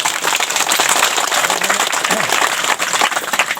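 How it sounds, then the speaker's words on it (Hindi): Loud, dense clapping from a village gathering fills the whole stretch at steady strength, a continuous wash of many hands with no gaps and no talk. "वही जोर से ताली बजाओ"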